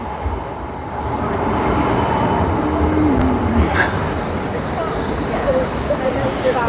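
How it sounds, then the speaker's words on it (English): A tram rolls past in Birmingham city centre, a rising mechanical rumble and rail squeal swelling in the middle and easing off, with people talking nearby over the street noise. "And here goes the tram."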